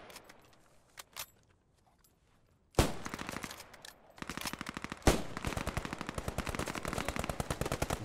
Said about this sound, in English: Thompson and Browning both opening up there. Firing through the bushes